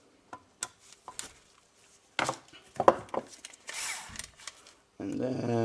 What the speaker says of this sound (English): So I will go on and just start unscrewing this